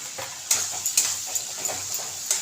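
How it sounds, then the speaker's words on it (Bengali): Spice paste with cumin powder frying in a pan while being stirred, soft steady sizzle broken by repeated scraping clicks of a spoon, close and alone. "এবার মশলাটাকে খুব ভালো করে কষিয়ে নিতে হবে।"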